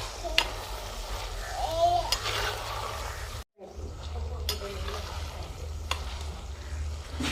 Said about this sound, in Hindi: इसमें डालते हैं गोश्त। इसको अच्छी तरह भून लेंगे।